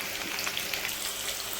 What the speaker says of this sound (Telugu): అవన్నీ వేసి మంచి గోల్డ్ కలర్ వచ్చేంత వరకు గ్యాస్ మీడియంలో పెట్టి ఫ్రై చేసుకోండి